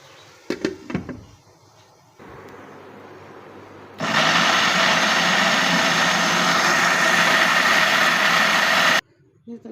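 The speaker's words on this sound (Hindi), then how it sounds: "ब्लेंडर में डाल के इसको अच्छे से ब्लेंड कर लेंगे" An electric blender runs loud and steady for about five seconds, purring cooked butter chicken masala into a smooth sauce, then cuts off abruptly, after a few clunks as the jar is set in place and a lower hum.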